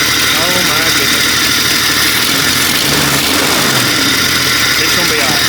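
A rebuilt car engine, just restarted after a four-month rebuild, runs loud and close in a steady continuous drone with slight fluctuations, while people talk over it.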